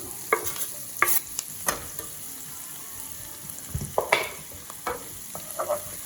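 Garlic frying in a pan of sausage oil and olive oil, a soft steady sizzle punctuated by scrapes and clacks of stirring, close up with no talking.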